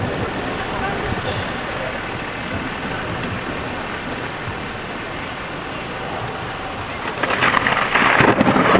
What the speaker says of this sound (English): Raining hard. Lots of lightning out there on the new bridge.